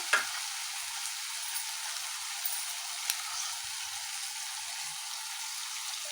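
Soya fried rice is stirred in a hot pan, giving a faint, even hiss with a few light clicks and scrapes scattered through it. No one speaks.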